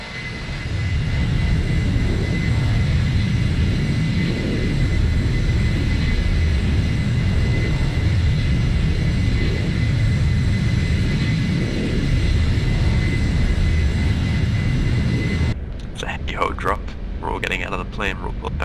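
Steady, loud airplane engine drone fills the cabin before a parachute drop in a game, a continuous rumbling roar that cuts off near the end as a voice speaks.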